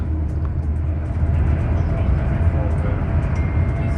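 Hull Trains train crossing Digswell Viaduct, heard from inside the carriage as a steady, loud low rumble with faint rail clatter and no pauses.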